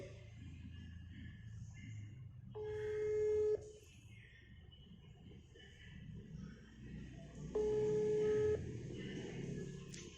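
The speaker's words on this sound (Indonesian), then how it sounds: "Saya telepon Alesia sebentar." A phone call connecting at a Sunday school session, with two steady ringback tones spaced a few seconds apart over a low hum of room noise.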